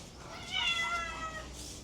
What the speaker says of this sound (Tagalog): Daming pusa oh.